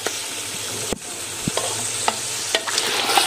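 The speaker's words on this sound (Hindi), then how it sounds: "सिर्फ लहसुन अदरक के साथ अभी हम इसको भून रहे हैं" Mutton browning in a pot with only garlic and ginger, giving a steady sizzle with occasional stirring scrapes and clinks, alone and without talk.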